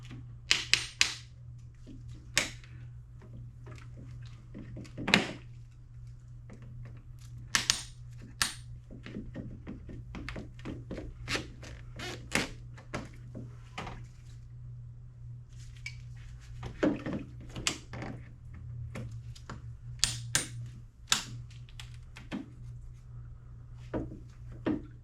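A hose clamp is knocked off a Ford Focus RS coolant tank with repeated sharp metallic taps and clanks, irregular and close, set against a steady low hum with no talk.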